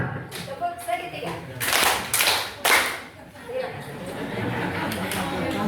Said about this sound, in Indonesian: Terima kasih untuk Ibu Ferliani, kita berikan tepuk segitiga.